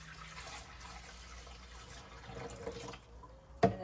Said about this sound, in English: I will add more water.